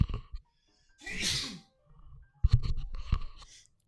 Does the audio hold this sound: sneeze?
yes